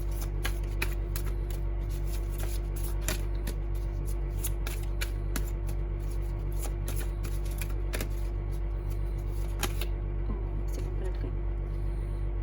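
Tarot cards being shuffled and drawn over a steady low background hum, with a continuous run of quick light riffling clicks and taps throughout, no talk.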